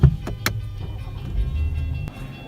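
A BMW started with the key held to the steering column, a sharp click and starter noise followed by a low engine rumble that settles into a steady idle, close by.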